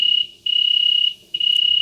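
A single cricket chirps loudly and steadily in close, rapid pulsing trills broken by two short pauses.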